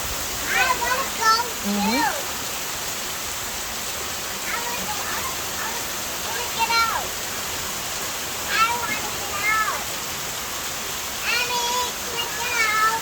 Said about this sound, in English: There's the big rain.